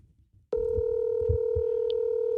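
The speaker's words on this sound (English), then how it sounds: "Hey, I'm calling him on my cell phone." A phone call tone plays through a cell phone's speaker, starting abruptly and holding as one steady, loud, unbroken tone over faint low thumps.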